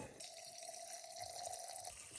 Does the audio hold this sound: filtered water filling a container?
yes